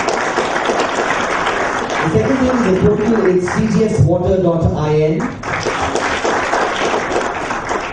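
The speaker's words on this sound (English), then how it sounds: "Round of applause. Come on, everybody." Loud, dense applause from the audience at a business launch event fills the whole stretch, steady throughout, while someone speaks over it in the middle.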